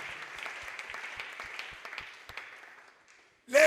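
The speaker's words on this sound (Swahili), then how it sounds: "Tuchape makofi juu ya Bwana." A church congregation at a Wednesday service applauds together, a steady dense patter of many hands clapping that fades out gradually, with a sharp loud burst at the very end.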